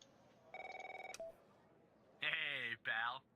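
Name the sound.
telephone call tones in a video game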